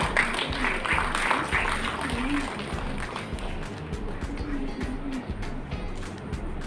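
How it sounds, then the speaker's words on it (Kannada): Loud applause from an audience at a hair and beauty association event in Mangalore, dense continuous clapping with crowd noise throughout, steady and close. "ಜೋರಾದ ಕೈ ಚಪ್ಪಾಳೆ"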